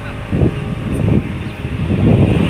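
Strong wind buffets the microphone in heavy, low gusts that swell and ease over a steady roar outdoors by Manila Bay at high tide.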